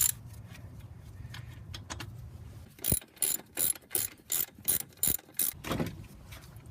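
Ratchet clicking in short bursts while the brake caliper and bracket come off a Buick Rendezvous during a CV axle job, close and distinct with regular cranking strokes.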